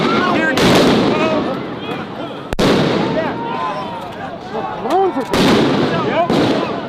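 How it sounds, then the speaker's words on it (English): Flashbangs go off at a street protest with several sharp, loud bangs spread over a few seconds, amid crowd noise and people shouting and talking throughout. "those are just flashbangs"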